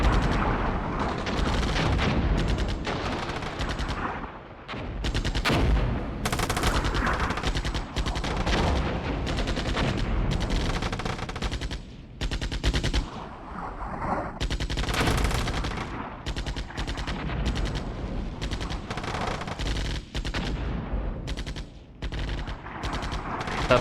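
Dense artillery and gunfire in the war game Armored Brigade 2, continuous overlapping blasts and rapid shots that stay loud and chaotic throughout with no pauses.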